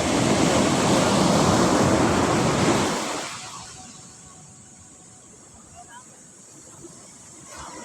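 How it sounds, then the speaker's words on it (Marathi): Sea waves at Sagareshwar Beach in Vengurla, Konkan, Maharashtra, loud broad surf crashing for about three seconds, then fading to a softer hiss of water and wind near the microphone. "समुद्राच्या लाटा"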